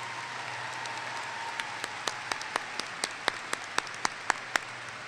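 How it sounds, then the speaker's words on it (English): Scattered hand claps from a graduation ceremony audience, sparse distinct smacks over a faint hum and low murmur, growing slightly stronger toward the end. "Mrs. LaGreca, a huge round of applause"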